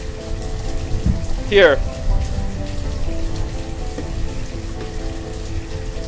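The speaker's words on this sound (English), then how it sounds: "it's really rainy and crappy out here" Constant rain patters over a colonial settlement in the town-building game Banished, a steady close hiss running throughout, with a brief spoken word and a short chime-like tone near the start.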